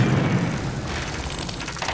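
A cartoon zapper gun fires a single booming blast at the start, followed by a fading rumbling tail.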